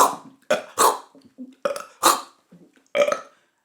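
A giant's loud burps come in a rapid series of about six gulping belches, each a short wet eructation with brief pauses between them, heard alone with no talk.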